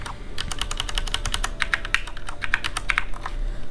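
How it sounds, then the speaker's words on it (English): Computer keyboard keys clatter in a steady stream of quick, close taps during gameplay of a Pirates of the Caribbean game, with a low hum underneath and no voices. "I am playing this with just the keyboard."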